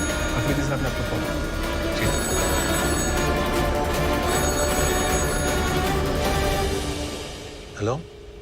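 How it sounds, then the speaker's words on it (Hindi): Dense electronic telephone ring pulses in an office scene under a loud music-and-effects mix, sustained for about seven seconds before cutting off with a brief swooping tone. "अफरीदी साहब ने आपको फोन।"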